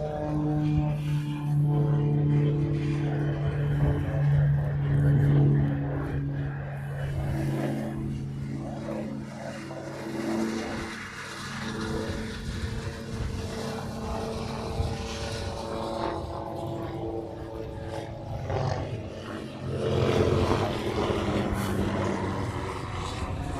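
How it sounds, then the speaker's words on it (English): Hawaiian Airlines A321 taking off from the reef runway in Hawaii, a loud steady jet engine roar with tonal whine that builds then slowly recedes, heard alone outdoors. "Next one out on the reef runway is heading off to Long Beach."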